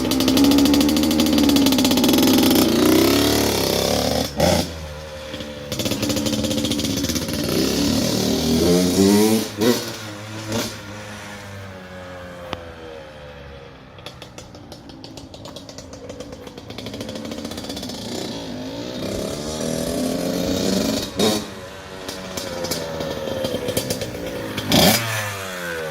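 A Honda CR85R dirt bike engine revving and pulling away, the buzzing two-stroke note rising and falling through gear changes for about half a minute, loud and close with brief drops in between.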